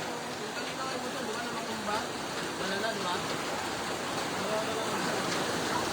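Steady rain falls in a broad, even hiss during a flood, continuous and fairly loud throughout with no clear breaks.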